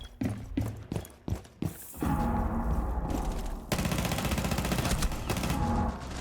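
Gunfire in a ranked video game match: a few sharp separate shots at first, then a dense, steady stream of rapid automatic fire that runs loud and close to the end.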